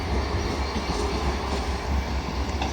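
Class 158 unit 158817 rumbles past at Carlisle, a loud, close, continuous roar of wheels and engine with faint rhythmic clatter and no pauses.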